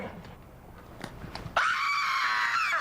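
A person screams in a studio setting during a puncturing and squeezing stunt with a magician duo. After soft rustling, a loud, sustained, high-pitched scream cuts in abruptly and holds steady to the end.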